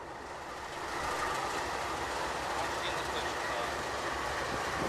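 An NS 9005 locomotive engine starts up and settles into a steady, loud diesel rumble after a quieter first second, holding close and continuous.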